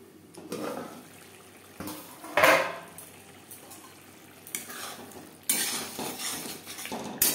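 Clattering metal knocks and scrapes ring out as a lid is set on a pot of tilapia fish curry over a low flame, a few sharp clanks standing out from quieter kitchen noise.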